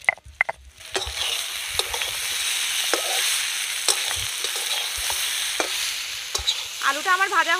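Potatoes fry in a karahi, sizzling steadily while a spatula scrapes and stirs them in repeated sharp strokes, close and loud, with no voices.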